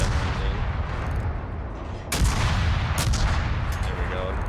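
Destroyer guns firing armor-piercing rounds in a naval warfare video game, a few sharp booming shots over a continuous rumbling battle background.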